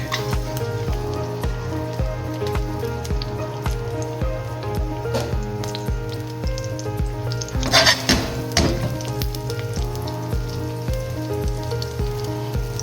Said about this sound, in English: we're gonna saute our garlic